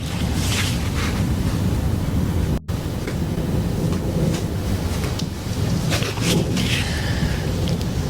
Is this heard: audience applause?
no